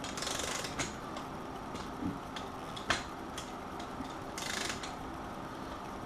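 A wrench slowly tightens engine bolts on a Honda CB350 bottom end, giving soft irregular mechanical clicks and ratchet ticks at close range over a faint background hiss.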